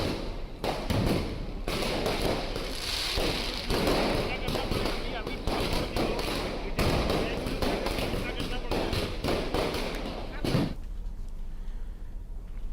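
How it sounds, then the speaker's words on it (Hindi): Firecrackers go off in a celebration by political supporters in Raipur, with rapid, irregular pops and thuds bursting throughout under voices and crowd noise. "उस दौरान भी यहां जमकर पटाखे चलाए गए।"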